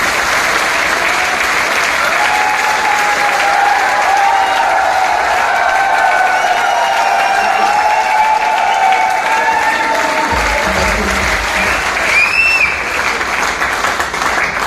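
Loud, sustained applause from a large indoor audience at a direct-selling event in Jaipur continues unbroken for about fifteen seconds. A few cheers rise out of the clapping.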